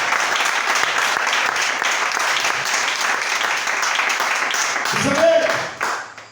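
A church congregation applauds in sustained, dense clapping that fills the room, fairly loud and steady, with a voice rising near the end as the clapping fades.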